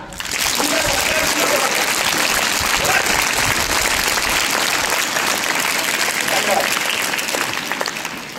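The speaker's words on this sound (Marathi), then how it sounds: "जोरात टाळ्या वाजवा" Students in a classroom gathering clap loudly and continuously, a dense, sustained burst of applause close by that lasts several seconds, with voices mixed in.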